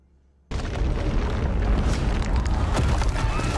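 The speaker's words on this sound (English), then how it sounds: "No, I think it's this is the volcano exploding." A volcano exploding in a fantasy series episode: a sudden deep boom bursts out of near silence, then a loud, sustained roaring rumble carries on with crackling debris.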